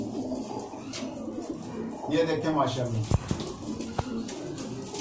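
High flyer pigeons coo in a loft as someone talks over them, with a couple of sharp knocks near the end.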